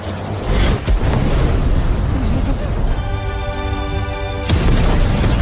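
Two clashing powers explode in an animated fight, a loud, sustained booming roar with a sharp burst near the start and rumbling that fills the whole moment.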